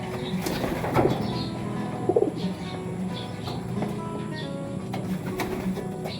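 Pigeons coo softly in repeated low phrases amid a steady hum of background noise, with a few faint chirps and no talking.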